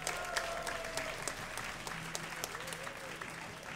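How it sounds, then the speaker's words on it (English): Crowd applause at a DreamHack esports tournament for a StarCraft match, sustained clapping with scattered sharp claps and cheers at moderate distance, a voice faintly heard beneath. "if you would like mousesports MaNa to win, give a cheer for MaNa"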